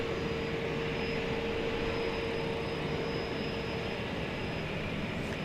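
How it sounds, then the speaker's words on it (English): An Embraer E-Jet airliner comes in to land at DFW Airport at night, a steady, distant jet-engine roar with a faint whine that holds evenly throughout. "Got an E-Jet coming in here."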